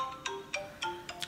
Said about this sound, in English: This is a ringtone.